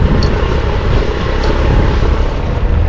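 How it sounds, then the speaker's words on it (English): A loud, constant tractor engine rumble drones close by without letting up, a dense low mechanical roar filling the whole stretch. "it's a tractor to the right, so it's a little loud."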